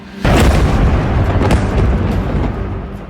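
A loud deep boom from an Israeli drone strike in Beirut, Lebanon, bursts in suddenly after a brief quiet and then rolls on as a long rumbling echo that slowly fades, with no talk over it.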